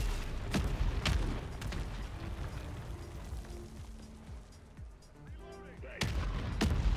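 Mortar strike blasts in Modern Warfare 3 Zombies boom out in bursts, sharp thumps near the start and a loud pair at the end, over continuous game noise and a player talking.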